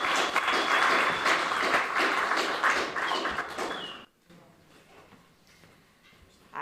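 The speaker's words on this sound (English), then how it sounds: "Let's give her a round of applause as she comes and say a few words." At a gun and gang violence conference, an audience applauds for a state assemblywoman with dense clapping for about four seconds, followed by a quiet room with faint shuffling.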